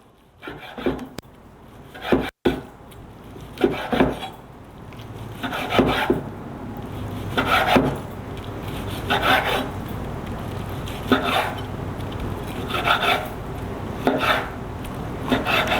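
Knife slicing cooked beef fajita meat across the grain on a wooden board, a steady series of rasping cuts repeating about every second and a half, close and clear, with no talk.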